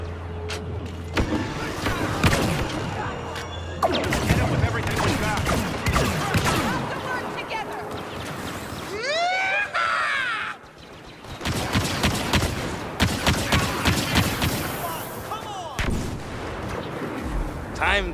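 Video game combat gunfire in bursts and rapid volleys, with booming impacts and mechanical whines, loud and continuous across most of the stretch with a brief lull midway, a voice briefly heard amid the shooting.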